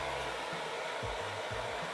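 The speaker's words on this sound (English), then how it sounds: "blast it with some low heat on my hairdryer" A hairdryer on low heat dries hairspray on a wig, producing a steady close airflow roar with a faint low motor wobble and no voices.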